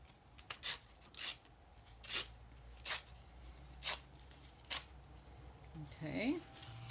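Paper being torn by hand while prepping a journal cover: seven short, close ripping bursts at a steady pace, then a brief crinkling rustle at the end.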